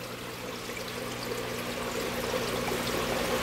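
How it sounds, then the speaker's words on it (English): Water runs steadily through a fluidized sand bed filter in a small land-and-water enclosure, making a constant, close pouring and trickling wash that holds an even level with no voices. "Little tiki guys with running water coming out."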